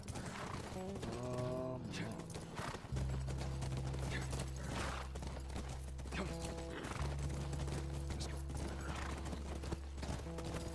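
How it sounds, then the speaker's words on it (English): In the video game The Last of Us, a horse's hooves clip-clop in a steady rhythm and a neigh rises above them, set over a sustained low musical drone and clear tonal sounds, heard fairly faint. "That's our horse."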